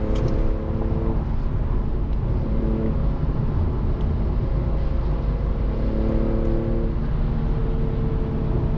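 A car with a Speed Culture Studios custom exhaust on its VQ engine drives along, giving a steady, full low drone with layered harmonic tones that rise and fall slightly as it cruises, loud and continuous with no talking.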